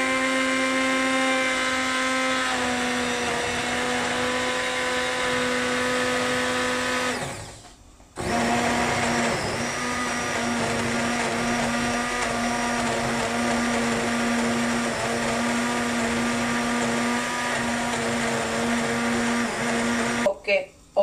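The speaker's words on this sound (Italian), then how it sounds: "mettiamo il frullatore a immersione" An immersion blender whirs through a cooked fish stock with a steady high motor whine, stops briefly, then starts again and runs until it cuts off at the end.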